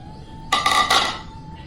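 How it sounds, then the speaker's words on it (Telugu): A spoon stirs tempering into dal in a metal pot: a few close, bright scrapes and clinks against the pot in quick succession over a low background hum, with no one talking. "ఈ పోపుని ఈ పప్పులో కలిపేసుకుందాం"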